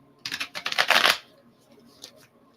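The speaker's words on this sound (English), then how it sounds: "I'm gonna shuffle these cards too" Tarot cards being shuffled in a burst of rapid riffling flutters for about a second, close and fairly loud, then fading into quiet room tone.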